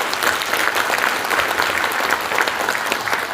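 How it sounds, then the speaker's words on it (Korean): Audience applause of encouragement at the opening ceremony of a joint medical center in a convention hall, a dense, steady wash of clapping for the whole moment, loud and continuous. "여러분 격려의 박수 한번 부탁드리겠습니다."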